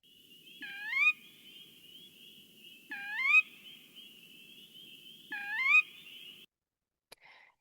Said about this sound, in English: They can also make this purr weep noise.